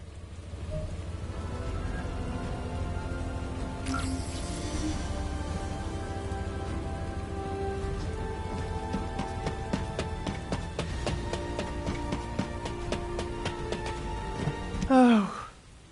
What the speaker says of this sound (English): this rain feels a lot like tears